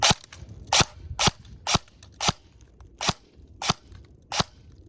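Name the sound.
gunshots fired at gingerbread houses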